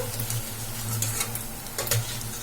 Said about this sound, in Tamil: இது வந்து நல்லா ஆயில்ல ஃப்ரை ஆகி வரட்டும்